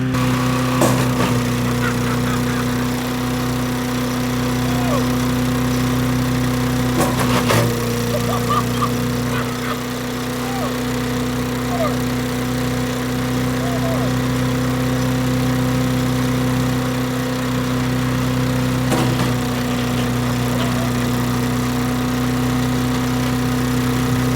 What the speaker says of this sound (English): I really want to see what happens when I throw dry ice in a wood chipper